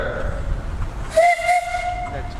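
A steam engine's whistle at a threshers' steam show gives a short, shrill blast of about a second, steady-pitched over a background of outdoor engine noise.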